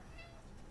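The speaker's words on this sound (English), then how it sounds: "Oh, June's meowing." A cat meows once, faintly, in a short, quiet stretch of room noise.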